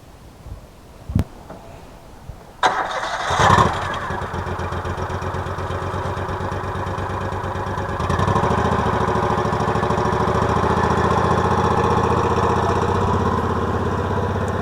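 A tractor with a loading trailer cranks and fires up after a few clicks, then settles into a loud, steady, close diesel rumble that gets heavier partway through.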